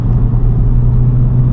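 Nissan Silvia S15 with a replacement exhaust giving a deeper tone than the original sharp, metallic Japanese one, heard as a loud, steady low rumble from outside without revving changes.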